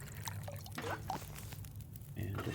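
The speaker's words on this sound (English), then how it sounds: "And just make some more water as we keep making teas." Liquid drips, pours and trickles while water is made for tea in the video game The Long Dark, a run of small splashes and bubbling sounds at moderate level.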